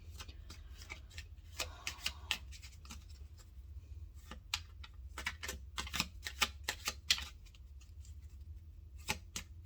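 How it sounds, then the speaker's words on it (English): Firm, stiff tarot cards being shuffled by hand, a run of crisp riffling flicks and slaps in irregular bursts, close and fairly quiet over a low steady hum, with no talking. "These cards are a bit very firm kind of cards, so it's a bit hard to really shuffle."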